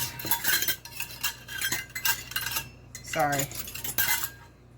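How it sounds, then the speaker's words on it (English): Metal measuring cups and utensils clatter and clink against each other and a bowl, busy and close, with a brief scraping stir near the middle. "I know my loud measuring cups"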